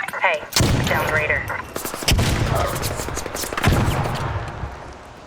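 Rapid bursts of gunfire aimed at the player in the video game Arc Raiders, loud sharp shots in quick volleys with short gaps between them, up close.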